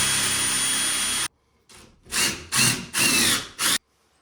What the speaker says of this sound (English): So I know I just pre-drill and put in my screw.